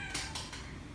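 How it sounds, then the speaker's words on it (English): A house cat plays with objects in the background of a quiet room, giving a few short, soft bursts of noise over a steady hiss, with cat-like vocal tones. "the noises you hear in the background are my cat playing with things"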